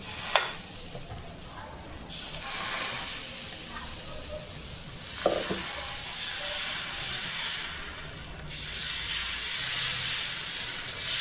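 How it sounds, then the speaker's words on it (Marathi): Mysore masala dosa batter sizzles on a hot pan with a steady, hissing fry, swelling as more batter hits the surface, plus a few light clinks of utensils nearby. "आता बॅटर टाकून घ्यायचं."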